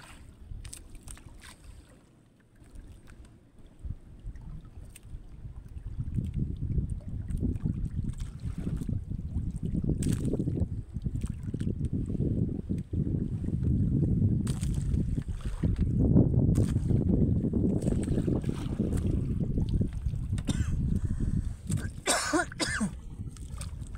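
Steady low wind rumble and water noise aboard a small boat at sea, continuous and fairly loud, with occasional brief knocks.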